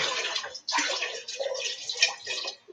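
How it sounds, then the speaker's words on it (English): Water streams and splashes into a cooking pot on a stove, a steady close pour broken by a brief pause, then continuing before trailing off. "I'm going to have to put a little bit more water in this pot."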